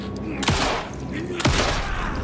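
Two loud gunshots about a second apart in Alan Wake 2, each a sharp broadband crack with a decaying tail over a low ambient game background.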